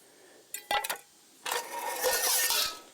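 A lightweight Alocs camping skillet is handled, with a few sharp metallic clinks and clatters followed by a longer scraping rattle of metal cookware close by.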